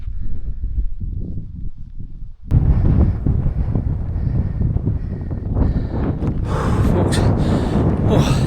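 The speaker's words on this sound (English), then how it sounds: "Wind's starting to go up a wee bit now, so getting higher." Strong wind buffeting a microphone on a high mountain ridge in the Scottish Cairngorms during a munro traverse near Braeriach and Carn a'Mhain, a steady rumbling roar that gusts harder and louder partway through.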